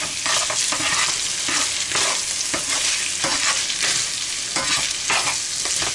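A spatula stirs barbecue sauce into a pan of ground meat, loud continuous sizzling with rhythmic scraping strokes across the whole stretch, close up and without any talk.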